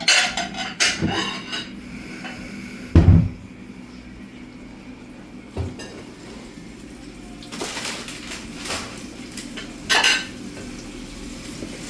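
Plates and dishes clatter in a kitchen while burgers are assembled, with a sharp clack near the start, a louder knock a few seconds in and scattered lighter clinks, fairly close over a quiet background.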